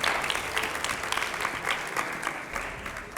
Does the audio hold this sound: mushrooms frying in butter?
no